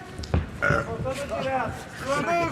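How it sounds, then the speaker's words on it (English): A short, loud belch rings out close up, followed by voices talking and laughing. "I think that was a belch break."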